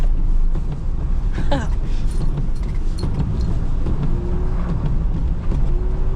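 Car doing a handbrake turn while drifting on a snowy street, heard from inside the cabin as a continuous engine and road rumble with some rattling, close and steady.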